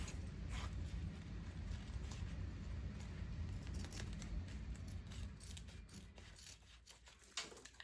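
Scissors cutting through a length of ribbon produce a close, steady run of soft snipping and rasping, fading toward the end with a final sharp click.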